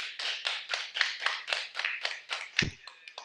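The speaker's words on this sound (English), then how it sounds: "They did it. They clapped." Studio audience applause, a steady patter of many hands clapping at a brisk rhythm for about three seconds, fairly close, with a short low thump near the end.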